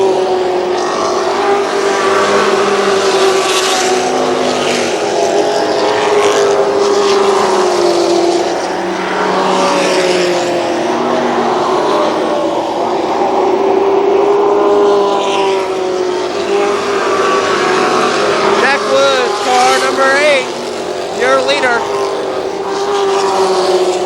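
ARCA supercars lapping the Kil Kare Speedway oval during a 30-lap feature race in 1994, a continuous loud engine roar with shifting pitch as cars run around the track, heard under a race announcer's commentary.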